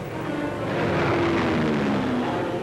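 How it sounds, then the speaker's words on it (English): Fighter planes take off from an Allied base in the South Pacific, a broad, steady engine roar with a faint droning whine sustained throughout. "with gas tanks filled, the fighters sweep aloft with a defiant challenge"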